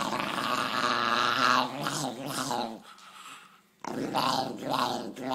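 A dog growls in a sustained, fairly loud rumble that rises and falls, with a brief quiet gap before the growling resumes.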